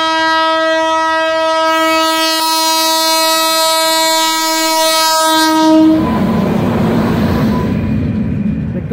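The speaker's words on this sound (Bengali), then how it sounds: "আর তার সাথে সাথে ট্রেনও চলে এসছে।" Shatabdi Express arriving at Begunkodar station: a long, loud, steady horn blast, then a rushing roar of the passing train with rolling wheel noise.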